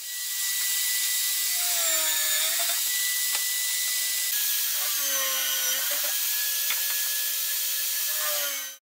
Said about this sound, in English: I drill a blind hole to house the head of the bolts.